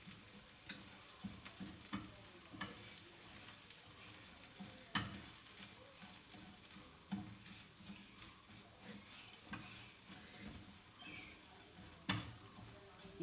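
Close, quiet scraping and soft clacks of a spoon stirring roasted gram dal and coconut in a frying pan, a light irregular rhythm over a faint sizzle, with no voice.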